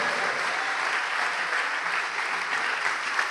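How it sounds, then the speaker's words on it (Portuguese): A church congregation applauds in a long, steady wave of clapping that fills the space evenly from start to finish, with no voices breaking through. "Vamos aplaudir ao nome de Jesus."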